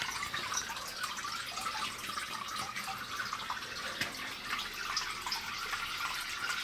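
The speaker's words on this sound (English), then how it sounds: "We'll let this finish draining" Coolant drains steadily from a Tormach CNC mill into a new coolant tank, a continuous trickling, splashing wash of liquid that stays even and close throughout with no voices.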